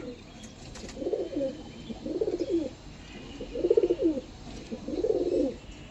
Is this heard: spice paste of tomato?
no